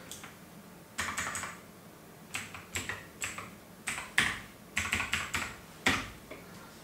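Close computer keyboard typing as a PAN card number is entered into an income tax website: short bursts of crisp key clicks in uneven clusters with brief pauses between them, fairly quiet and with no voices.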